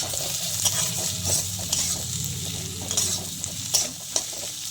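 Goat fat fries in a pan with a steady, close sizzle and crackle, joined by several sharp stirring clinks and scrapes against the pan. No voices are heard.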